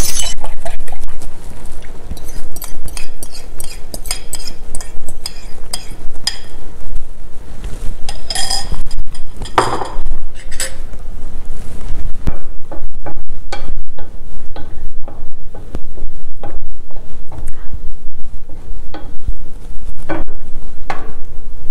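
Egg is added to softened zucchini squash in a pan and stirred, with a loud run of utensil scrapes and clinks against the pan over a light sizzle, the scraping strokes coming in quick irregular bursts.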